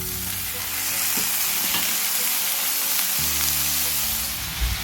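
Chopped vegetables, including broccoli, sautéing with garlic and green chili for a simple breakfast dish, producing a loud continuous sizzle and hiss with soft stirring scrapes nearby, and no talking.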